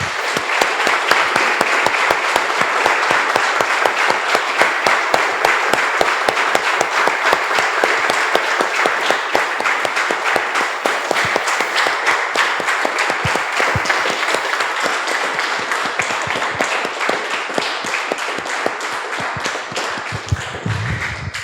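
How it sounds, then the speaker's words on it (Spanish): A church congregation claps at length, sustained dense applause with many hands filling the room, steady and loud from start to finish with no talking over it. "Damos un aplauso, hermanos del Señor."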